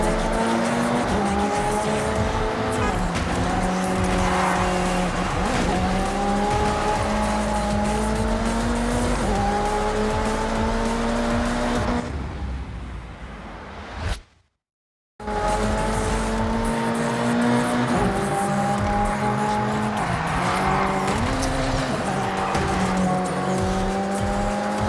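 Race cars in Forza Horizon 6 roar loudly and continuously, engines revving up and down through gear changes with tire squeal. A brief drop to near silence comes midway before the racing resumes at full volume.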